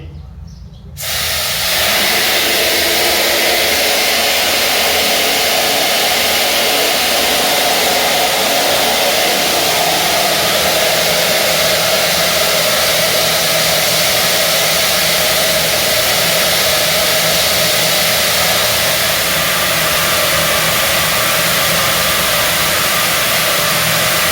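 Booster pump motor on an electronic control panel starting up after a short quiet moment, then running steadily with a loud, continuous hissing whir that holds level throughout.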